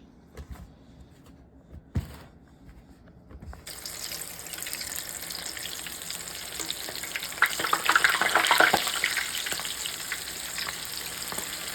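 Battered chicken fries in hot grease for hot honey fried chicken, a dense crackling sizzle that starts quietly after a few soft knocks, then jumps louder and swells to a peak before settling, with no talk.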